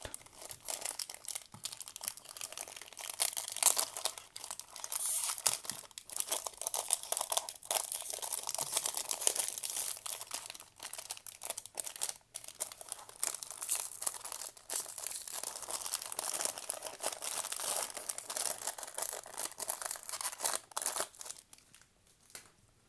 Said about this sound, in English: So paper sleeve and containing the acrylic case. I'll open the paper sleeve as well.